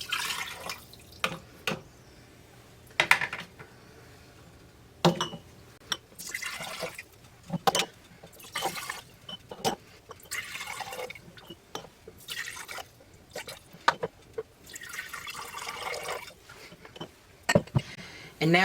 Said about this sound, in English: I'm going to fill my jars with my goulash to a 1-inch headspace